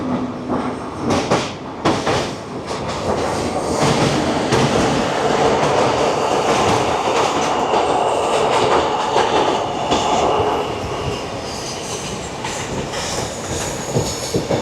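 Puri–Howrah Shatabdi Express running nonstop at speed, a loud continuous roar of wheels on rails with rhythmic clickety-clack and occasional squeals, heard from inside a coach near the engine.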